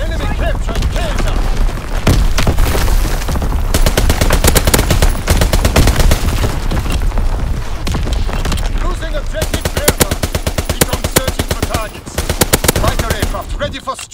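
Call of Duty: WWII strafing run: relentless machine-gun fire roars close and loud throughout, rapid bursts blending into a dense rattle with a brief dip near the end, under faint game voice chatter.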